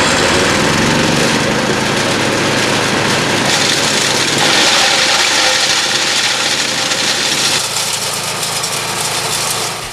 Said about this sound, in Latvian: Šis šķeldotājs ir viena nāvīga, forša un laba un ražīga iekārta.